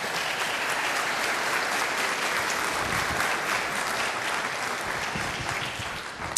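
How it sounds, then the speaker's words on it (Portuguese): A room full of people applauds steadily, dense clapping that holds loud and even before tapering slightly at the end. "O mínimo que podemos dar uma salva de palmas a ela,"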